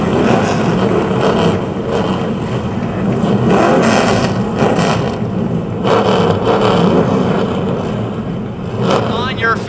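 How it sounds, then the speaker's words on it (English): Race car engines fire up together at Motordrome Speedway, a loud, rough roar of many engines revving and growling continuously, with a crowd and a voice over the speakers mixed underneath. "Gentlemen, start your engines."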